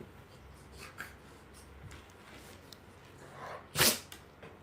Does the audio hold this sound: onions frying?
no